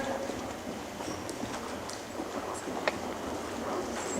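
Hooves thud in a steady rolling rhythm under heavy wind noise, a horse moving at a canter in a riding lesson, fairly faint against the constant rush of air.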